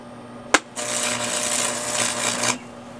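A stick welding arc crackles and hisses while tacking the handle of a Scotts Classic 20-inch reel mower, starting with a sharp pop followed by about two seconds of steady, harsh sizzling.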